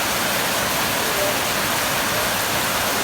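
Steady night rain in Thailand, a dense broadband hiss of drops falling continuously and evenly throughout, fairly loud and close, with no voices.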